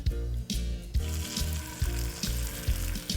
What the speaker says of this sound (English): Get the butter hot and lay the fish down, skin side down.